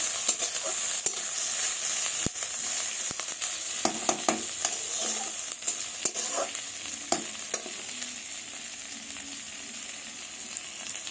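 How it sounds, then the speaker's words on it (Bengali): Onions fry in oil with a five-spice tempering, making a soft, steady sizzle broken by frequent scraping clicks and clatters of a spatula stirring in the pan. "পেঁয়াজগুলো হালকা লাল করে ভেজে নেব"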